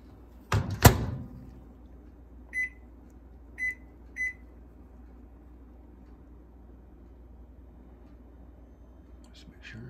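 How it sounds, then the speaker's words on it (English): A microwave oven heats water in a plastic container: a loud door clunk near the start, then a low steady hum with three short electronic beeps spaced a second or so apart. "I'm gonna go ahead and put it in the microwave, and I'll set it for 1:40"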